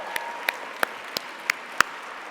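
Sparse, isolated hand claps ring out at a regular pace in a large hall at an awards gala, each sharp clap separated by a pause, roughly six in a couple of seconds, over a steady room hum.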